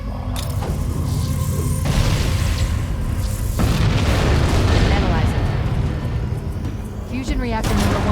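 A reactor explodes in the Halo video game, a loud, sustained roar of booms and rumbling blasts that runs without letup, with a voice speaking over the din.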